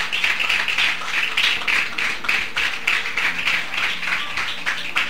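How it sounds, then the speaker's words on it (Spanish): A congregation applauds together during a church service, a steady, close wash of many hands clapping that holds without pause from start to finish. "Denle una ofrenda de aplauso al Señor"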